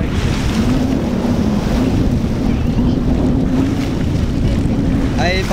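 Strong, steady wind roars across the open beach at high tide, mixed with the rush of surf, loud and continuous throughout with a few faint voices underneath.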